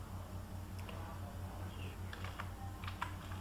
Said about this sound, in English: Now here whenever I am typing